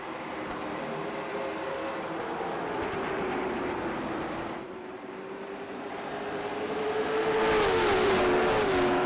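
Stock cars race through turns 3 and 4 at Thompson Speedway, a steady loud engine roar with one droning pitch that dips and swells as the pack passes, closing in a rising surge.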